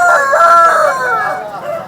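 A rooster crows loud and close at a rooster market, one drawn-out call with a harmonic, wavering pitch lasting under two seconds and trailing off at the end.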